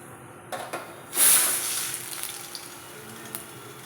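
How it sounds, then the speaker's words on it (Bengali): Cumin seeds and dried red chillies hit hot oil with a sudden loud sizzle that then settles into a steady crackling fry, with a few faint clinks before it. "একটু ফোড়নে জিরে ফোড়ন আর শুকনো লঙ্কা ফোড়ন দিয়ে দেবো।"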